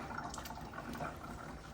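Excess water is squeezed from a wet Bernedoodle's fur during grooming, a soft continuous trickling and dripping at low volume, close by, with no talk.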